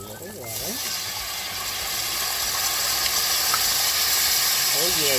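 Water poured into a hot pan of mushrooms and scallion whites hisses and steams sharply, a loud sizzle that builds and holds steady throughout, with a voice talking briefly at the start.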